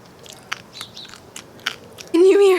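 Someone chews backpacking noodles with vegan meat, some still crunchy, making soft close-up crunching bites, followed at the end by the start of a voice.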